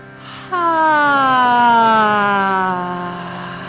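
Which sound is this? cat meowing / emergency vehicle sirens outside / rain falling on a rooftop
emergency vehicle sirens outside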